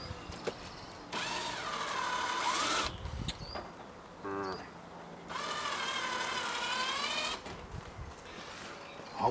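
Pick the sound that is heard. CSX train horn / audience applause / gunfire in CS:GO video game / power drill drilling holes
power drill drilling holes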